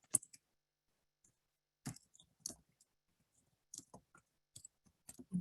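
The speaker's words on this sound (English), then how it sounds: "I'm just going to start typing the other names that follow." Scattered bursts of clicks as someone types on a computer keyboard, with irregular short runs of keystrokes separated by quiet gaps. The typing is close and faint, with no speech.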